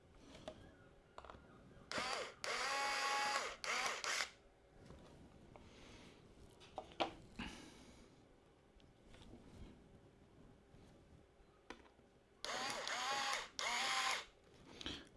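A Hanboost 35-in-1 electric screwdriver drives a screw in two short whirring bursts a few seconds each, separated by quieter stretches of handling clicks, fairly close and moderately loud.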